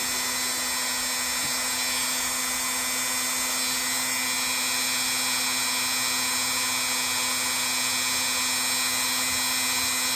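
A rotary tool fitted with a rust-removal accessory grinds steadily against stubborn rust on metal, a continuous high-pitched whine with constant motor tone, close and loud throughout with no talk.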